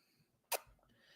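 A dog sneezes once, a single short sharp burst in an otherwise quiet room, close and fairly faint, with no talking.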